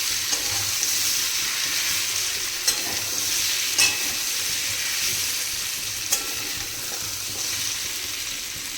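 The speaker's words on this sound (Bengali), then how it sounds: "এরপরে বেগুন আর কুমড়োটা ভাজবো" Vegetables frying in oil in a wok for a Bengali five-vegetable dish: a steady loud sizzle with occasional stirring scrapes and clinks, close by and without talk.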